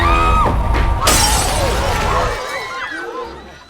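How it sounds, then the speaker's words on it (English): Glass shatters loudly as a person falls onto a glass table at a party, a sharp crash followed by tinkling shards and scattering pieces, with crowd commotion and voices around it before fading. "She sees a party attendant smiling at her and falls onto a glass table."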